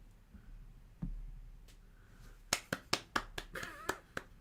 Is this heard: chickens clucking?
no